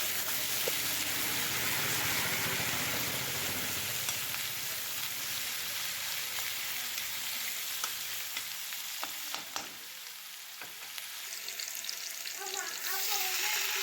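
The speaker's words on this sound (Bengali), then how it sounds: "পেঁয়াজ বাটা দিয়ে আমি হালকা করে ভেজে নেব" Onion paste with green chillies fries in hot oil, loud and close, a thick crackling sizzle with spatula scrapes that thins out partway through before flaring up again, no one speaking.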